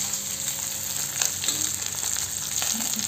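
Masala-coated fish fries in a small amount of oil in a pan, a steady close hiss of sizzling with faint stirring and no talking.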